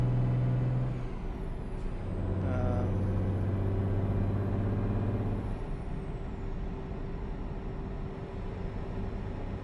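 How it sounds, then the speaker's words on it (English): A slow truck idles with a steady low engine drone while a loud hiss of air brake release bursts out, followed by a lower tonal rumble before the noise settles back to a constant road hum. "This truck is not a very fast truck"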